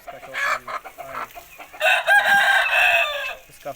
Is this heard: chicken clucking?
yes